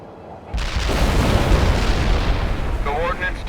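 A heavy, rumbling artillery barrage in a video game swells in suddenly and holds as a dense, continuous roar of booms, loud and enveloping, with a voice briefly heard near the end.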